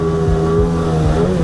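A Sea-Doo Spark TRIXX personal watercraft engine drones loudly and steadily, its harmonic pitch holding then rising slightly toward the end, with no voices over it.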